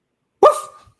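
A single sharp bark from a dog nearby, loud and abrupt, with a short tonal tail that fades quickly into silence.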